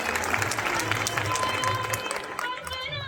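Audience applause welcoming the Kalka MLA at a government polytechnic's annual cultural festival in Morni, steady and dense throughout with a voice talking over the clapping.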